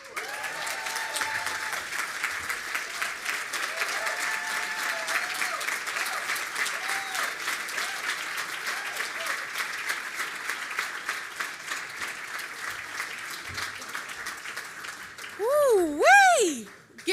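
Sustained audience applause at a spring celebration event, a broad steady roar of clapping with occasional whoops and cheers rising over it, ending in a loud pitched shout.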